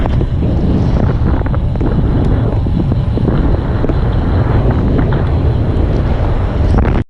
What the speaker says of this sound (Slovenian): Pa mi piha vjetar.